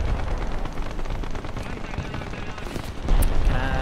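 A tank cannon fires in the combat game War Thunder: one heavy, loud blast near the end, breaking through a dense, steady roar of battle noise.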